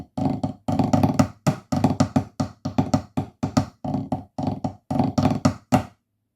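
Snare drum playing the Illawalla marine solo sections, crisp close strokes in quick clustered bursts and rolls with short gaps between phrases, alone without speech.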